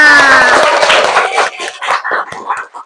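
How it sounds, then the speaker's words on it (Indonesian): A classroom group claps for a presenting team in a loud burst that thins out into scattered claps, with a brief speaking voice at the start. "Aplaus untuk diri kita semua."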